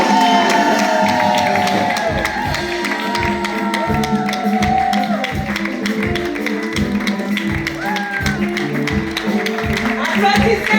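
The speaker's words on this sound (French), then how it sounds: "Donc on peut les applaudir." Church congregation clapping and cheering for graduating students at a Sunday worship service, a dense crowd roar with whoops and rhythmic claps over music, loud and sustained throughout.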